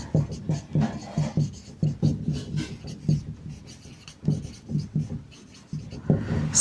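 Chalk or pen writing out a chemical formula during a coordination-compounds chemistry lesson, short rhythmic scratchy strokes in quick bursts with brief pauses, close and fairly loud, no voice over them.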